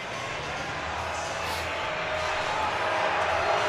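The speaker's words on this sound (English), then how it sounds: "Crowd noise, some animosities." A hockey crowd at a college game between Michigan and Penn State gives off a broad, steady roar of displeasure that slowly swells over a few seconds, with no distinct voices standing out.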